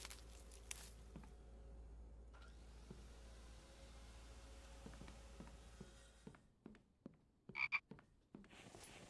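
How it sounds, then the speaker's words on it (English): A frog croaks inside the survival video game The Infected, set during wintertime, sounding as a few short, fairly loud calls near the end over a steady low ambient hum and scattered soft clicks. "I hear you, frog."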